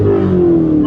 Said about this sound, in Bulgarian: Колата шуми, какво шуми?